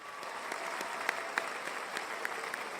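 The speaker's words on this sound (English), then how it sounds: "Let's give Rocky a big round of applause." An audience at a college hall of fame ceremony applauds an alumnus, a steady, even field of clapping at moderate distance with a few sharper claps standing out, no voices over it.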